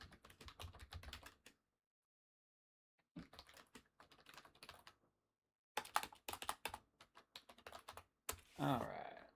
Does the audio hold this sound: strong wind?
no